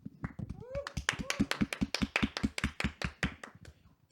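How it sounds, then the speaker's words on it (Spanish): Audience applause at an evening church gathering, heard as a short run of separate, fairly loud hand claps with a steady tapping rhythm. A few faint voices sound beneath the claps. "pido un fuerte aplauso"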